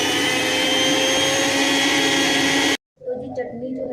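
A kitchen mixer grinder blending chutney with cumin, a loud steady whirring drone that cuts off abruptly after nearly three seconds, followed by someone speaking.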